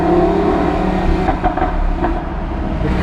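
A Lamborghini Huracan, driven in Monaco, revs loudly up close with a rough, throbbing exhaust roar and a few crackling pops, heard alone without talk.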